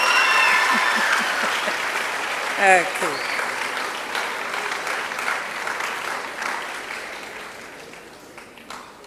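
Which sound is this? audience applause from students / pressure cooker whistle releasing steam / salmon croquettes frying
audience applause from students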